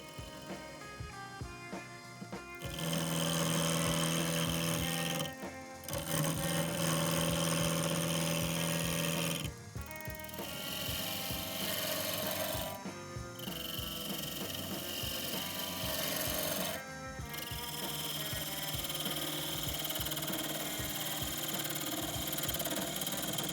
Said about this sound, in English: Mount it in the lathe chuck and turn it to my desired shape.